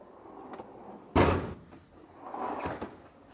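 A drawer slides open on a 52-inch stainless steel toolbox full of sockets, spanners and ratchets. It gives one sharp metallic clunk, then a softer rumbling rattle as the drawer settles.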